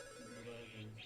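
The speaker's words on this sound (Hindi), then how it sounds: "ये फोन बजते।" A telephone ringtone plays faintly as a continuous tonal ring in a TV drama scene, with a low murmur of background sound beneath it.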